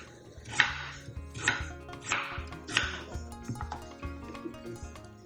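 Garden eggs and yam being chopped with a knife on a board in a Ghanaian kitchen: about five crisp, separate strikes at uneven intervals, fairly close, over a faint steady background hum with no talking.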